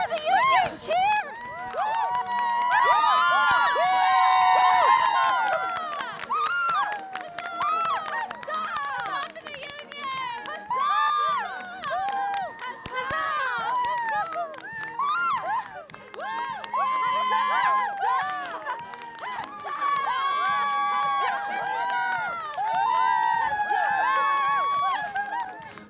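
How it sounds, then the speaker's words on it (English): A crowd of many voices whoops and shouts cheers for Union troops in a Civil War reenactment, loud and continuous with brief lulls, including children's shouts and excited yelling. "I'm cheering for our troops! Woo! Woo! Come cheer for the Union! Cheer!"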